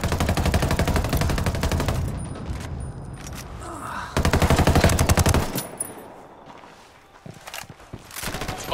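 Rapid bursts of automatic gunfire in a combat video game mission, loud and sustained in two long volleys with scattered single shots and quieter gaps between.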